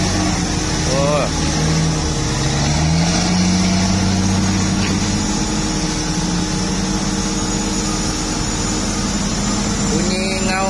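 An old, worn-out bulldozer engine runs with a steady loud droning rumble that rises in pitch as it revs, while a person talks over it.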